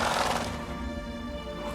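A horse in the video game The Witcher 3 gives a short whinny, loud at the start and trailing off into a steady ambient game background.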